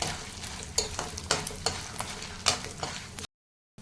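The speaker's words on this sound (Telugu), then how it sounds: "1 స్పూను ఆవాలు, వేగే పోపులు ఎండుమిర్చి వేసుకొని బాగా పోపు బ్రౌన్ కలర్లో వేపుకోవాలి." Mustard seeds and dried red chillies crackle in hot oil for tempering while a spoon stirs with rhythmic scrapes over the sizzle, then the sound cuts off abruptly.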